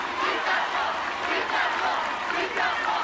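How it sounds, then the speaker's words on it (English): Loud, sustained crowd roar from a live American Ninja Warrior audience, with cheers and shouts swelling and pulsing as an athlete powers through the course. "And this crowd erupting for Lucas Reale."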